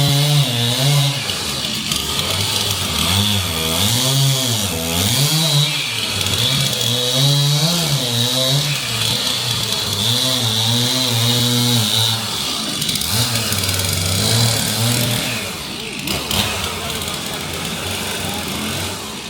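Chainsaw carving a wooden bunny rabbit at a Ketchikan lumberjack show, a steady loud whine that rises and falls in repeated surges as the cuts are made, running continuously with crowd noise behind it.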